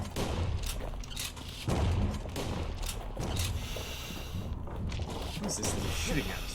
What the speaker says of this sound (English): What is this thing shooting at us right now?